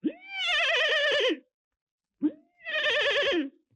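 A voice imitates a horse's whinny, giving two loud, wavering neighs up close, each rising then quavering, separated by a short pause.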